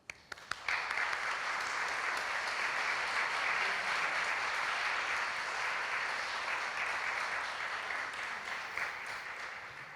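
Audience applause welcoming a keynote speaker at a conference gathering: sustained, even clapping from a crowd that starts abruptly and continues steadily at moderate distance, fading slightly at the end.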